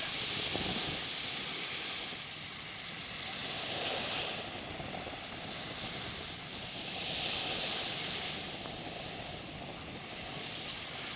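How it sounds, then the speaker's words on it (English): Surf washing onto the beach at Cayo Costa, a steady broad hiss that swells and recedes in slow waves about every three to four seconds, with wind noise across the microphone and no talking. "here's a look at the beach at Cayo Costa"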